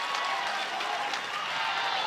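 Dense stadium crowd cheering and clapping at a college softball game between Arkansas and Alabama, a steady broad roar at moderate loudness with no clear breaks, some voices mixed in.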